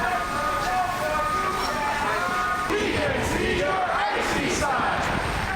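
A crowd of several hundred protesters fills the Minneapolis-St. Paul airport to protest deportation flights, and their voices make a dense, steady murmur with overlapping calls and shouts that never lets up.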